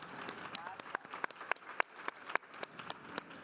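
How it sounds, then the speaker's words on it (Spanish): Scattered clapping from a small group, sharp individual claps rather than a dense roar, fairly close and uneven in rhythm. "Un aplauso para estas grandes mujeres."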